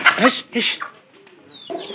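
Pigeons coo softly in a loft during cold weather, a few low throaty calls close by, with a thin whistle-like sound near the end.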